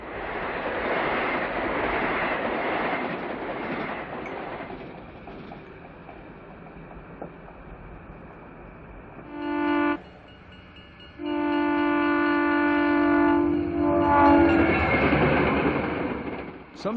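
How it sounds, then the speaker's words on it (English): The Gulf, Mobile and Ohio diesel passenger train Abraham Lincoln rumbles past near an old pre-Civil War location, with a steady rolling roar, then several loud multi-tone horn blasts: one short, one long, and a final swell of passing noise. "as the Gulf, Mobile, and Ohio train, the Abraham Lincoln, passes by"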